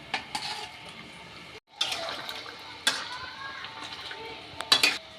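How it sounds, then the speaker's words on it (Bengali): Pointed gourd and shrimp tip into a pan of spiced, watery curry, making clattering utensil knocks and wet splashing against the pan. The sounds are soft and uneven, with a brief pause near the middle. "এবার দিয়ে দেবো পটল আর চিংড়ি মাছটা"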